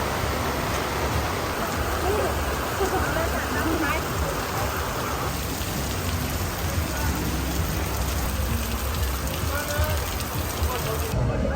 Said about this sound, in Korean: 바람이 안 통하는 곳은 갑자기 비가 많이 내립니다